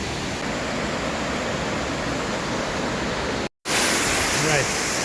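Snowmelt waterfall roaring as a steady, dense rush of falling water, loud and close, continuing unbroken apart from a brief cut near the end.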